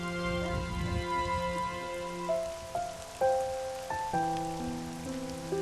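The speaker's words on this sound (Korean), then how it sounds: "비가 옵니다." Steady rain pattering on a surface, with sustained tonal notes ringing over the wash of drops throughout.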